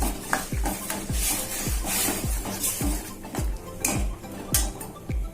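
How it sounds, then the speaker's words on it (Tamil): A spoon scrapes and knocks rhythmically against a metal pot, roughly twice a second, close up, as thick turkey berry sambar is stirred. "லைட்டாக வந்து ஒரு மிக்ஸ் பண்ணிக்கலாம்"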